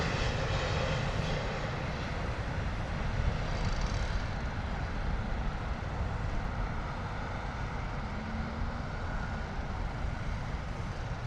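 An MEA airliner on approach to London Heathrow gives a continuous broad jet-engine roar that stays loud and steady throughout, with no voices.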